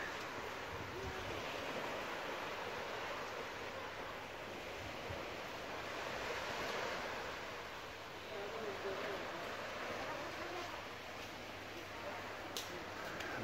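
Ocean waves wash onto a beach at Koh Samet in a continuous broad roar, rising and falling gently with wind noise over the microphone, fairly faint overall, with a voice speaking briefly over it.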